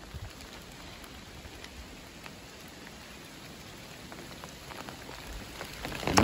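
Steady rain pattering on foliage and ground along the Appalachian Trail while walking through a cloud, a continuous close hiss with scattered drop ticks, growing slightly louder near the end.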